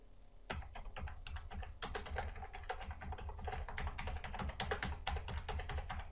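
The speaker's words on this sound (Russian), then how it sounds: "наберем языки программирования Википедия" Fast typing on a computer keyboard, entering a search into a web browser: a steady run of close, crisp key clicks with a few louder strikes, no voices.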